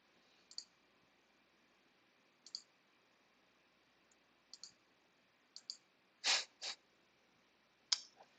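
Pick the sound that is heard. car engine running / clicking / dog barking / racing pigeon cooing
clicking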